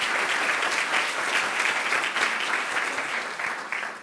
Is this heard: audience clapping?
yes